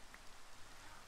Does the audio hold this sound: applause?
no